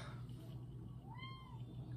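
A house cat meows once at home, a single rising-then-falling call standing out over a steady indoor hum and low background noise.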